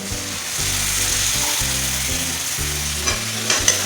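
Cabbage cooking with small shrimp in a pan sizzles loudly as a little water goes in, a dense continuous hiss with faint scraping from stirring near the end.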